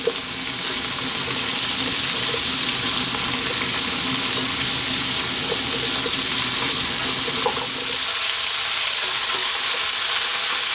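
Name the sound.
vegetables sautéing in a pot for broccoli cheese soup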